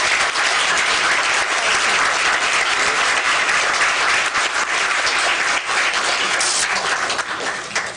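Sustained, loud audience applause for political candidates at the 2018 Glasgow/Barren County political forum, a dense wash of clapping that runs steadily and thins slightly near the end.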